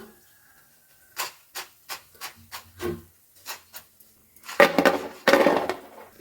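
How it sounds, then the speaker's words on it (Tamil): Homemade kurkure snacks fry in hot oil, giving a run of separate crisp crackling bursts followed by two louder, denser sizzles near the end, heard close with no speech. "வெந்து எடுக்கும்போது நல்லா மொறு மொறுன்னு சத்தம் கேட்கணும் பார்த்திங்களா இந்த மாதிரி சவுண்டு வரணும்"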